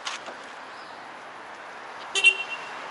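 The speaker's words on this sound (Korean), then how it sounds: "빵빵이 한번 들려줄게" A Kia Forte hatchback's horn gives one short honk that rises clearly above a quiet, low background.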